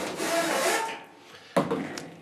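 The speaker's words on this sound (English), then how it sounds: "step one is we're gonna pull out the lint trap, and we're gonna clean that off" A clothes dryer's lint trap is drawn out of its slot on top of the machine, a close scraping rub followed by a brief pause and then a sharp clack with a smaller knock.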